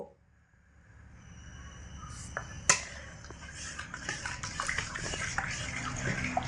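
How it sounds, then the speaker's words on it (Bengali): Semolina being stirred into water in a pot to form a dough: a soft, continuous wet scraping and sloshing with light clinks of the spoon against the pot, quiet and close, and one sharper knock partway through. "সুজি জলের মধ্যে দিয়ে অনবরত নাড়াচাড়া করে খুব সুন্দর একটা ডো তৈরি করে নেব"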